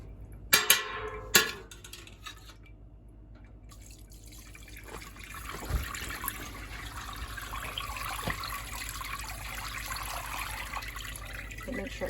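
Liquid poured into a bowl while making feta cheese: a few sharp drips at first, then a soft, steady pouring stream that runs on quietly with no talk.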